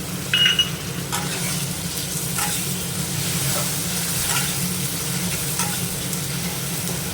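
Chili chicken with soy sauce and tomato puree is stirred in a sizzling pan, a continuous close frying hiss with repeated spatula scrapes and clinks, one brief sharper tap near the start.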